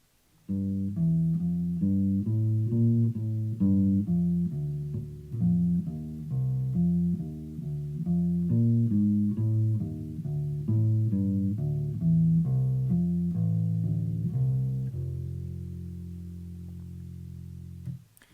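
A walking bass line on an electric bass moves in a steady stream of plucked quarter notes for about fifteen seconds, then rings out on a held final note, clear and alone.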